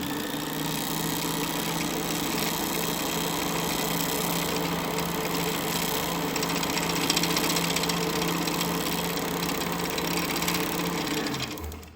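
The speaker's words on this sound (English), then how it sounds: "Then we'll go ahead and turn that on and wind the bobbin." A vintage Kenmore 1040 sewing machine winds a bobbin with a steady, close motor whir that holds even for about twelve seconds before winding down at the end.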